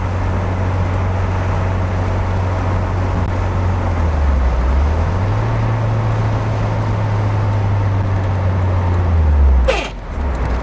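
A 1991 Alfa Romeo Spider climbing a hill in fifth gear: a steady, loud low engine drone that dips briefly and then recovers, heard from inside the car with constant road noise, and a brief knock near the end.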